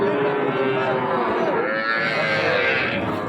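A long, low cow moo rises over a noisy, crowded outdoor cattle market with other cattle and murmuring people.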